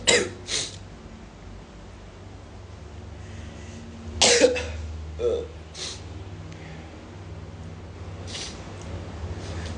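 Several short coughs ring out: a pair at the start, then a cluster of harsher coughs midway, over a quiet background hum.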